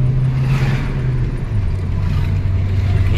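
A petrol car running on gas accelerates steadily in fourth gear, giving a continuous droning engine hum with a slight pitch shift, heard from inside the car.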